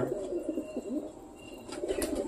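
Two wild pigeons on a rooftop near a hanging cage, cooing and flapping their wings as they take off, a steady close bird sound under faint background noise with a brief flutter near the end.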